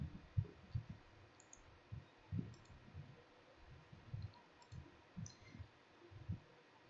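Quiet computer mouse clicks while someone works through desktop personalization settings, a steady run of short, faint, close clicks at irregular intervals with no talking.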